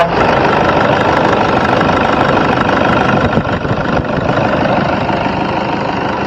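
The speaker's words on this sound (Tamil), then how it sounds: "வாங்க வண்டியோட இன்ஜின் சவுண்டு பார்த்தீங்கன்னா கேட்போம்." A 2012 Toyota Innova diesel engine idles close by, a loud, continuous clattering rumble with a steady knocking rhythm and only a brief dip partway through.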